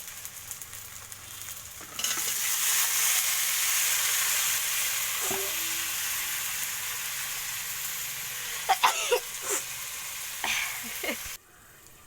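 Chicken frying with spice paste in a pan, a steady broadband sizzle that jumps louder after a couple of seconds and runs on, with a few stirring clinks and scrapes near the end before it cuts quieter.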